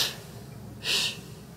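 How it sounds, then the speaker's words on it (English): Breathing during an abdominal exercise: two airy nasal breaths, one brief at the start and a stronger one just before the middle, close and fairly soft over a quiet room hum. "breathing in through the nose and out"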